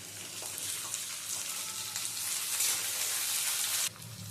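Quartered tomato pieces fry in a hot pan with egg and pointed gourd curry, giving a loud, steady, close sizzle that drops off abruptly near the end.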